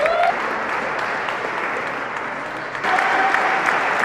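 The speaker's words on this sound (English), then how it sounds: "Big round of applause, Ray Ward" An audience claps for an honoree at a local community event, a sustained, dense round of applause from a crowd, loud and steady, swelling slightly near the end.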